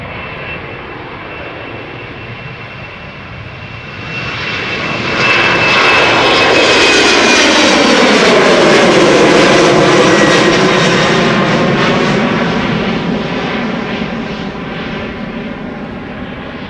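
A 14-year-old KLM Embraer 190 regional jet departs Amsterdam Schiphol up close, its engine roar swelling loudly from about four seconds in, holding a broad, rising howl, then slowly easing while still strong; no voices.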